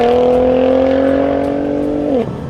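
A Nissan GT-R with a six-speed dual-clutch automatic chugs along at low speed, its engine producing a loud, steady drone that holds its pitch, then dips briefly near the end as it shifts or lifts off.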